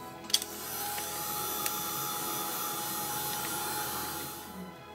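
A heat tool or hair dryer blows steadily to dry paint on an art journal page, a constant airy whir running unbroken for several seconds at moderate level, with a couple of faint clicks near the start and end.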